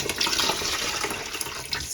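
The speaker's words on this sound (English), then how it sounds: "I'm going to pour it all into my pot." Solar-steeped dye liquid with powder acid dye poured from a jar into a pot, a continuous close splashing pour of water, steady and alone without talk.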